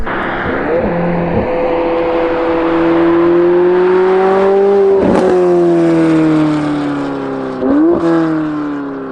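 A loud Chevrolet Corvette C8 Z06 fitted with equal-length headers revs hard and accelerates away, its pitch climbing through gear changes, with a raspy, piercing exhaust note.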